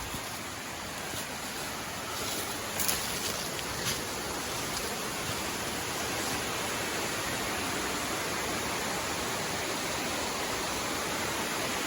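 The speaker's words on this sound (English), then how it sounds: "And look at the waterfalls" A waterfall in the Appalachian Mountains: a dense, steady roar of rushing water, loud and unbroken throughout with no voices.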